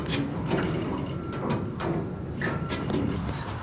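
Quick repeated clicking of a ratchet tightening a fitting, fast bursts of pawl clicks close by, fairly quiet with no talk.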